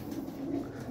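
Racing pigeons coo softly and steadily nearby in a loft, a low continuous burbling without pause.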